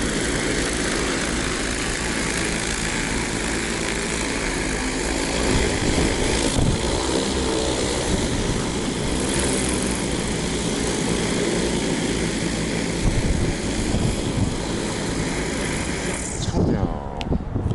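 A 30-liter-class agricultural spraying drone flying for crop protection spraying, its rotors giving a loud steady whirring drone throughout, close and continuous, fading slightly near the end.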